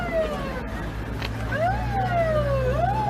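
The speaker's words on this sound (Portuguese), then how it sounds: "observando a passagem de uma ambulância" An ambulance siren wails past on a city street during a rally, its rising and falling tones sweeping clearly above a steady low traffic rumble, with no voices.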